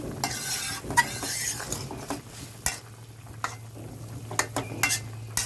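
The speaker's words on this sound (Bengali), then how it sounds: "এখন আবার একটু নাড়াচাড়া করে নিচ্ছি" Bitter gourd and pabda fish curry is stirred in a pan: a spoon scrapes and clinks at an irregular rhythm over a soft, steady sizzle.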